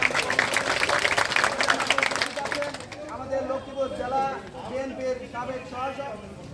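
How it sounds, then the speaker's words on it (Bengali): A crowd claps in a burst of applause that fades out, with someone speaking over and after it, at a reception ceremony. "আমরা সকলে করতালির মাধ্যমে শুভেচ্ছা জানাই"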